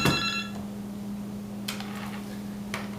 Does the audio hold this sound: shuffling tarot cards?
no